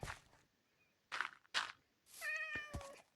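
A cat meows inside the Minecraft game, several short tonal cries with a rising, wavering pitch, the clearest one near the end, between brief bursts of other game noise.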